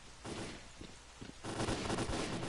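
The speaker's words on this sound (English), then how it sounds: "That sounds like gunfire." Distant gunfire in Stalker: Call of Pripyat rattles in faint, rapid bursts over a steady noisy ambience, growing denser in the second half.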